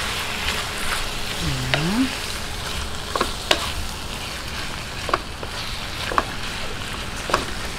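Pork cubes sizzle and fry steadily in a pan for picadillo, a continuous close crackle with a few sharper clinks of a utensil against the pan.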